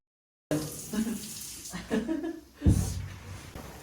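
Water gushes from a newly installed bathtub faucet during a first test, a loud close splashing rush that starts abruptly after silence and surges near the end, with a voice briefly audible.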